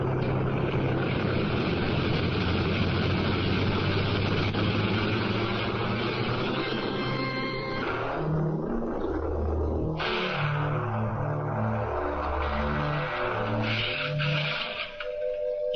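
Spaceship engines rumbling during liftoff, a loud sustained roar with pulsing, wavering low tones that shift and intensify partway through, with no talking.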